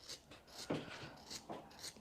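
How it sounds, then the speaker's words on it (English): Kitchen scissors trimming at home, giving a few short, soft snips spaced across two seconds, close and quiet with no talking. "Get your trusty kitchen scissors back again then"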